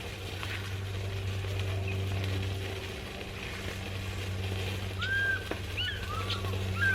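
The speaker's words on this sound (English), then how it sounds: "I've just heard a fish eagle again there." An African fish eagle calls out in the open wild at a campsite, a few faint, distant high yelping notes near the end over a low hum and quiet outdoor ambience.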